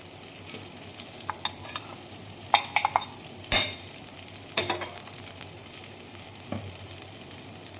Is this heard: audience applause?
no